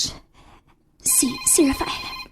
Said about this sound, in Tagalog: Oy, ang imong cellphone.